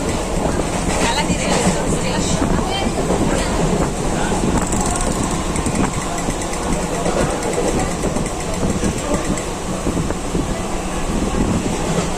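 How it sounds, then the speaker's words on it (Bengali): A train rumbles along steadily with a continuous clattering roar and faint rhythmic clicks of the wheels, loud and close throughout. "তো দেখতেই পারলে ট্রেন এসে গেছে, আর ট্রেনের মধ্যে আমরা বসেও গেছি।"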